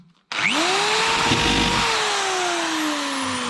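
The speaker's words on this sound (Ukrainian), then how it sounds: "Ставимо в дриль. Ну, тут свердло по металу, звичайне, там п'ятерка, шестерка діаметром. І бистренько включаємо." An electric drill fitted with an ordinary metal bit of about five or six millimetres starts abruptly and whirs loudly, drilling drainage holes in plastic seedling cups, its pitch sliding slowly downward under load for about three seconds.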